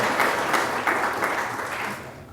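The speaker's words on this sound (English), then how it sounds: "please give Shel a round of applause" An audience at a campus talk breaks into applause, steady clapping from a crowd that holds for a couple of seconds and then begins to fade.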